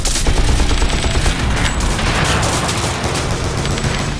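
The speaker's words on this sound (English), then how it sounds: "Warning. Laser fire detected." Rapid laser-style weapon fire in the intro to a video game awards show, a dense, loud burst of repeated blasts and booms running steadily throughout without a pause.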